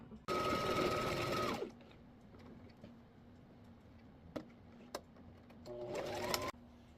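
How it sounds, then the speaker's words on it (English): Sewing machine top stitching the pocket of a tote bag, a loud close burst of fast whirring stitches for over a second, a quiet pause with small clicks, then a second short stitching run. "Now we are going to top stitch at the top of the pocket."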